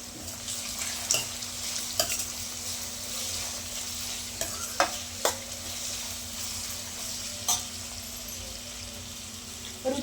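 Capsicum chitranna sizzles steadily in a pan, a constant soft frying hiss with occasional scraping clicks of a spoon stirring, close and fairly quiet, with a faint steady hum beneath and no talk.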